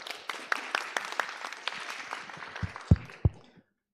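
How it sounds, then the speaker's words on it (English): An audience at an intelligent transportation forum gives a keynote speaker a brisk round of clapping, scattered claps building to a few loud close claps before stopping abruptly. "give him a big applause to welcome him"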